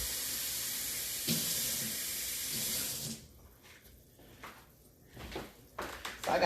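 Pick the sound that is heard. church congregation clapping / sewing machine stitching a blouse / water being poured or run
water being poured or run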